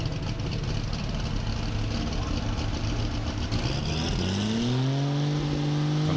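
The Issel Diesel Light Superstock pulling tractor from Holland idles with a rough, mid-pitched diesel rumble, then revs up midway, its engine tone rising and climbing steadily, loud and close.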